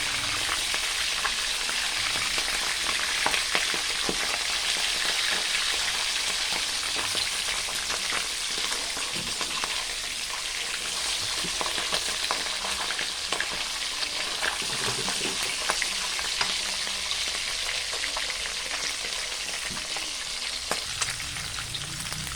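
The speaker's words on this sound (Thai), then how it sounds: "ยายเขย่าน้ำมัน ปลาทูก็จะร่อนไม่ติดกระทะ" Mackerel fries in hot oil in a pan, a steady crackling sizzle with small pops throughout, close and continuous.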